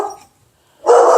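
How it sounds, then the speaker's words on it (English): A dog barks in two loud, close bursts, one at the start and one at the end, with a short silence between them, indoors in a home craft setting. "I am so sorry about this dog barking at every single thing today."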